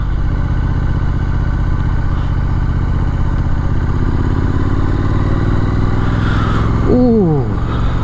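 A Triumph Street Scrambler Sandstorm motorcycle being ridden, with a loud, steady, close engine drone and a rising whine near the end as it revs up.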